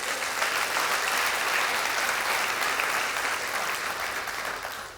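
A church congregation applauds warmly, a dense, steady roar of clapping that holds for about five seconds before tapering off slightly at the end.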